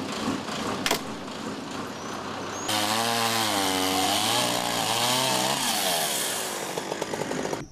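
A chainsaw cuts into a rotten, hazardous tree after a storm, first idling nearby, then revving hard into a loud, wavering, sustained cut that tails off.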